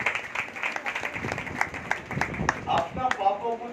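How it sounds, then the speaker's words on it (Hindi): Applause from a church congregation, steady clapping with overlapping hands continuing under a preacher's voice speaking throughout. "इसलिए करें जोरदार तालियां"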